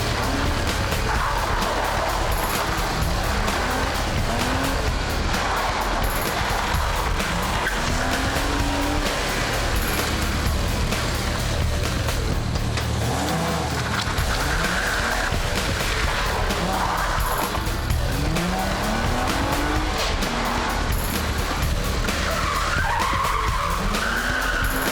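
A rally car skids through handbrake turns on a fast event course, tires squealing in long sweeping screeches over constant loud engine roar, with several separate slides spread across the run, heard alone with no talking.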